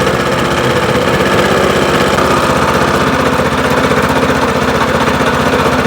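A WEIMA 1100-6 walk-behind tractor engine running in first reduced gear, a loud, close, continuous rapid chugging throb with heavy vibration, steady throughout with no talking.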